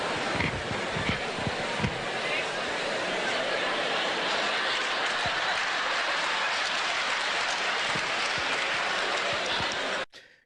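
Steady, dense applause from an audience, a broad continuous wash of clapping that holds at an even level for about ten seconds before cutting off abruptly.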